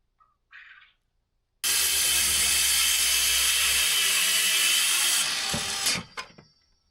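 A chainsaw with a dull chain cuts into wood while building a shed off grid, a loud steady roar running for about four seconds after a short rev, then trailing off into a few brief knocks.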